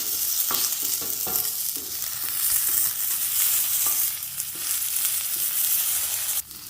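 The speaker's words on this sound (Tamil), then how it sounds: "இப்போ வெண்டைக்காய் வதக்கிட்டுருக்கேன்" Okra pieces sizzle steadily while being stirred in a hot pan, the frying hiss continuous and close with occasional scraping stir strokes and no talking.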